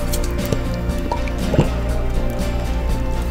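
Thick chili sauce glugs and drips from a jar into a slow cooker, wet squishy plops and trickles over a steady low background hum.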